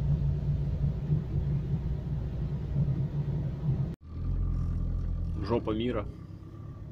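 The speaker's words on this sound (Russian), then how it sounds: "О, а вот и Волга едет даже" A passing car, a Volga, gives a low rumbling engine drone that builds and fades across the scene, heard outdoors among garages, with someone talking over it.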